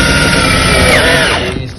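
A loud power drill running continuously while aluminum wall panels are installed, a dense high whirring whine with a slight pitch shift that tapers off near the end.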